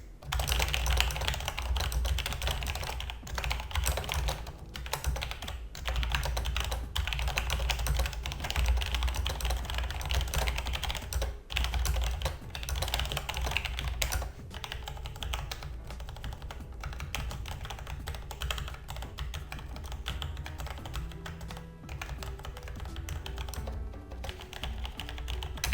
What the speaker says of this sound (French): c'est pas ce qu'il y a de plus bruyant pour un clavier mécanique